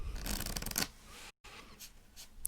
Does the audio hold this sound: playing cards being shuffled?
yes